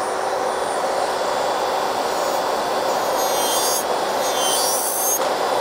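An electric nail drill with a 5-in-1 bit grinds gel color and some Bio Sculpture hard gel off a nail, a steady close whine with rising rasping filing strokes near the end, with no talking.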